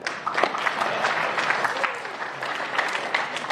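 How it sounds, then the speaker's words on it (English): An audience at a community social justice talk claps in a moderate, uneven round of applause, with scattered sharp claps and some crowd murmur and voices mixed in. "clap it up"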